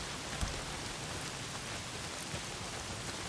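Steady heavy rain pours down in Days Gone, a broad even wash of falling water with a couple of faint soft knocks, no voices over it.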